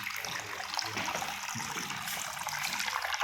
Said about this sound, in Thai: น้ำไหลแรงขึ้นนะครับ